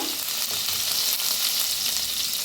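Spices, hing and a ground paste of garlic, green chilli, ginger and coriander fry in a hot pan with a loud, steady sizzle and some stirring, with no voice over it.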